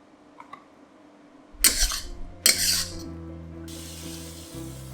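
Turmeric chicken being stir-fried in a pan, two bursts of loud sizzling as the food hits the hot surface, then a softer steady frying hiss with low clatter from stirring.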